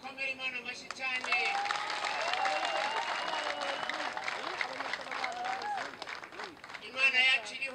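A church congregation applauds at a chorale gathering, the clapping sitting fairly soft beneath loud cheering and raised voices that fill most of the span.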